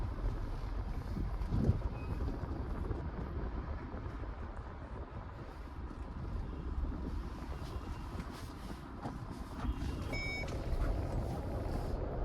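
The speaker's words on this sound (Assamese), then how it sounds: "এতিয়া বেক কৰি একদম পাৰ্কিঙত ভৰাই দিওঁ।" A car backing into a parking spot, with a steady reversing beep sounding over a low, continuous engine and wind rumble, moderately distant and fairly quiet.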